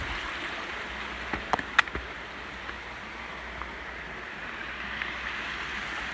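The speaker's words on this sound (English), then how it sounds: "We're hiking along a lot of these little falls and streams that may be leading to the Pigeon River" Small waterfalls and a stream in the Smokies give a steady broadband rush of flowing water at moderate volume, with a few faint clicks and knocks over it.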